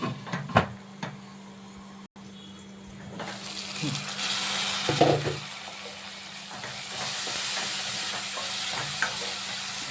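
Tomatoes cooking in a pan with salt for a mushroom, paneer and capsicum stir-fry, heard as a soft hiss and sizzle with a few utensil knocks and a lid being placed, then a broader steamy hiss after it is covered, with no talking.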